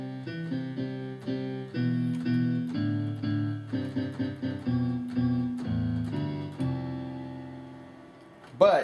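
A digital grand piano app plays a flowing passage of chords and melody, steady and fairly loud, with no talking over it.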